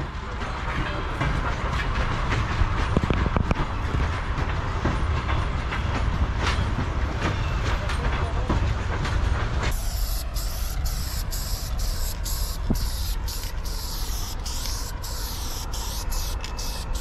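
An electric commuter train rumbles close by with a dense, loud roar, then shifts to a hissing rush with rhythmic clicks as the cars pass.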